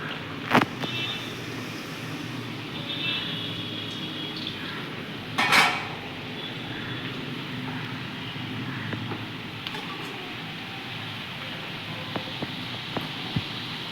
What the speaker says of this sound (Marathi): या पद्धतीने आपण हे समोसे तळून घ्यायचे आहेत